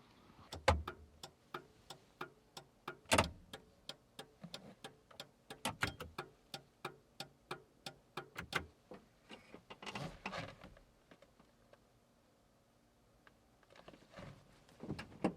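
Turn signal relay in an NA Mazda Miata with new LED tail lights, sharp isolated clicks repeating at an uneven pace with occasional louder knocks and brief rustling between them in a quiet setting.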